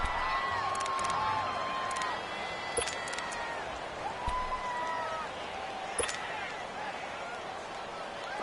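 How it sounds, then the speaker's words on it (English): Crowd in an American football video game, a steady roar of cheering and whoops with whistle-like tones, loud and continuous throughout, with commentary heard over it. "the crowd getting into it as we come up on a big 3rd down"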